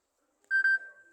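A Samsung Galaxy A03 ringtone gives a clean electronic beep, two quick tones run nearly together into one held note that fades, alone and fairly close.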